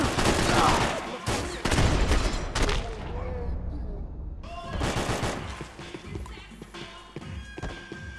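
Bursts of automatic gunfire and heavy shots crack through a Max Payne 3 firefight, dense volleys up front that thin into scattered thuds and rattles, with voices shouting in between.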